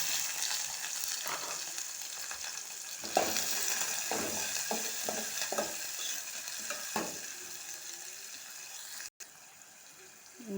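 Cumin, green chillies and onions fry and sizzle in hot oil for a brinjal and tomato curry, with a steady crackle and several stirring scrapes in the pan, close and continuous, with no talking.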